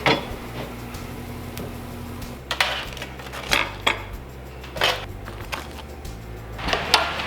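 Grilled bone marrow is taken out of the oven with several sharp metallic clanks and clinks of a tray and pan, spaced a second or so apart, over steady background music.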